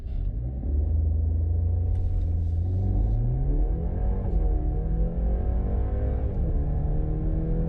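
A 2019 BMW 330i with an 8-speed automatic accelerating hard from a standstill, engine rumble rising steadily through the revs with a couple of gear changes, heard from inside and steady in level.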